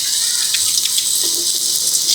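Tap water running steadily as a few bunches of mint leaves are rinsed clean, a continuous close hiss with faint splashes and no voices.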